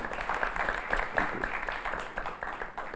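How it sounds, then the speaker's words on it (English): Scattered applause from an audience at a university leadership talk, a steady wash of clapping of moderate loudness with a faint voice underneath. "We can clap, just so you know."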